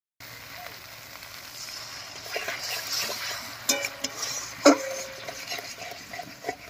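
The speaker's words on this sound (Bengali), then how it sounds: "এবারে মশলা বাটা জল দিয়ে কষিয়ে নেব।" Spice paste and water stir-fried in a pan for a bamboo shoot curry, giving a low steady sizzle with scattered scrapes and stirring clatters, one sharper knock near the middle, no voices.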